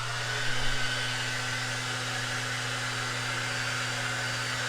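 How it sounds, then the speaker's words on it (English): A Conair 1875 hair dryer blows steadily and loudly at close range, heating a label on a book cover, with an even roar throughout. "hair dryer, Conair 1875. It's gonna be kind of loud when we get started, but I'm gonna heat this label up"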